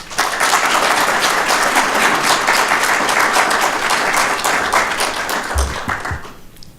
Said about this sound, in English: Let's please give all of the AI Jam students a round of applause.